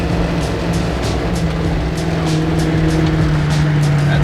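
A 1969 big block Chevrolet Camaro engine pulls hard under acceleration, a loud, steady, deep rumbling drone close by that holds full throttle throughout.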